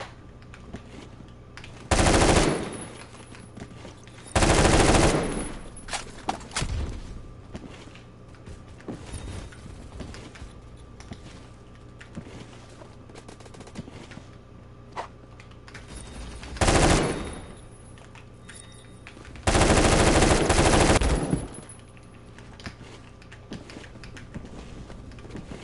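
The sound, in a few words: AK-12 rifle gunfire in Phantom Forces video game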